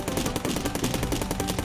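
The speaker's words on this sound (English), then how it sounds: "I can just hold down the button and it shoots really fast" An assault rifle in the video game Cally's Trials fires a rapid, evenly spaced stream of loud shots, a fast continuous burst with no pause.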